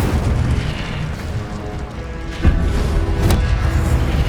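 A fiery Incendio spell is cast in Hogwarts Legacy, giving a loud bursting whoosh with a sharp crack near the middle and another flare soon after, over dense game background sound.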